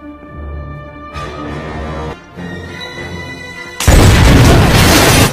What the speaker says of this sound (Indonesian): meledakkan laboratorium tersebut